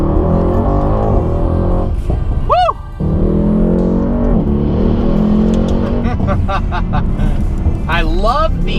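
A tuned 2018 Mercedes-AMG E63 S making about 700 horsepower, all-wheel drive, pulling hard in race mode from first gear, engine rising in pitch through rapid gear changes, loud and close, with excited voices over it.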